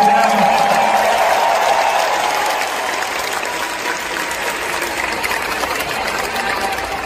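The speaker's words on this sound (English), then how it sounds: "Let's give a round of applause for this amazing crew." Crowd applause after a wrestling show, a steady wash of clapping and crowd noise that starts loudest and settles to a lower, continuous level, with a faint voice at the very start.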